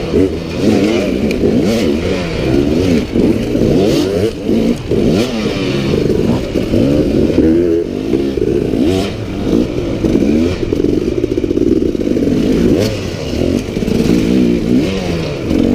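Dirt bikes rev and roar together at the start of an Enduro Cross race, a loud, dense snarl of engines accelerating with clattering and scraping, continuous throughout and with no talk.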